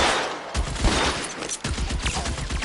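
A loud, rapid fusillade of gunfire from the L.A. Noire video game, with dense overlapping shots in bursts that briefly drop out and resume.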